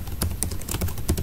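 Keystrokes on a computer keyboard while entering text into an Excel spreadsheet, a quick irregular run of close, crisp clicks with no talking.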